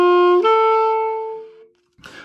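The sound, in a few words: saxophone ghosted rip played slowed down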